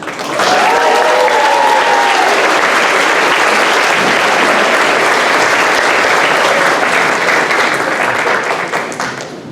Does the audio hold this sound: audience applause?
yes